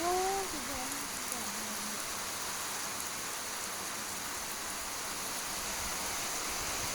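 Heavy storm rain in Laos pours in a steady, dense hiss throughout, with a brief whistling tone near the start.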